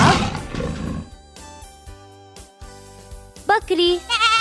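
A tiger's roar bursts out loud at the start, then fades under a light background music track, with a brief wavering animal call near the end.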